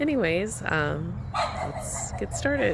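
Dog barks and yips come in short bursts at the start, mixed with a person talking during an outdoor garden tour. The animal sounds fairly close and partly overlaps the speech.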